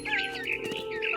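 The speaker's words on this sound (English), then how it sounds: "Then I heard chirping outside my window." Birdsong from the video game What Remains of Edith Finch, a barn swallow chirping outside a window: a brief run of bright, close tweets over a faint steady background hum.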